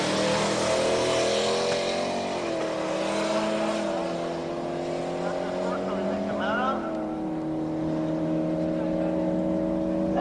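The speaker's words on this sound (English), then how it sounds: "That's a strong run of that Camaro." A Camaro makes a drag strip run in the Venus Strip Camaro class at Tarlton, its loud engine holding steady harmonic tones with two upward gear-change sweeps over a continuous roar, while an announcer talks over it.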